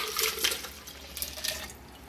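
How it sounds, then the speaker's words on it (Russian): Ice water pours into a mojito glass, a short, close splashing trickle with uneven bursts of liquid. "Вливаем воду со льдом."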